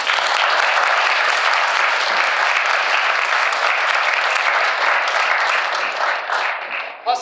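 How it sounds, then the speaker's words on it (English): A church congregation applauds in a full, sustained round of clapping that holds steady throughout and fades slightly right at the end. "Let's give them another round of applause."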